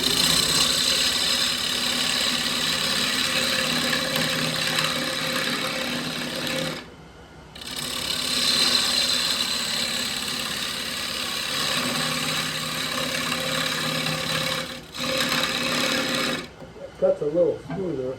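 A wood lathe spins steadily while a 1/2-inch gouge cuts inside a turned piece, a continuous loud whir with a harmonic hum, broken by two brief pauses and ending in scraping.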